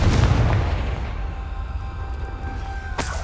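In Hogwarts Legacy, a Confringo blasting curse detonates in a heavy booming explosion that fades slowly, before a crisp second impact lands near the end.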